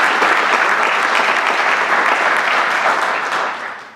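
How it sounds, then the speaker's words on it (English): Loud, sustained audience applause fills a hall at a Boy Scouts council's annual business meeting, steady dense clapping for about four seconds before tapering off at the end. "So let's give them a round of applause."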